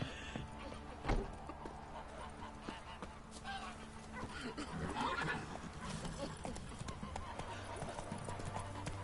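Hooves of Roach, a horse in The Witcher 3 video game, clip-clopping in a galloping rhythm, with a sharp thump near the start and game sounds and voices mixed in underneath.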